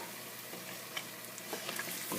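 Tomatoes added to frying garlic in a pan, a continuous close sizzle and spatter with small pops, no voices.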